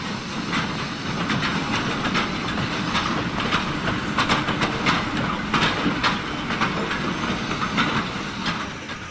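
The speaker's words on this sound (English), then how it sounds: "an 18-inch engine is assisted by a 16-inch example as it approaches Gretton Brook Lane crossing with another heavy load of ore for the furnaces" Two industrial steam locomotives, an 18-inch Manning-Wardle engine assisted by a 16-inch one, haul a heavy ore train toward a level crossing, with loud continuous steam hiss, rhythmic exhaust beats and rolling wagon clatter nearby.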